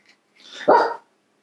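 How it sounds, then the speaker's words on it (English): A single dog bark from outside, one sharp mid-pitched woof rising out of an otherwise quiet room, short and fairly clear with a faint yip-like onset. "There's a dog barking outside."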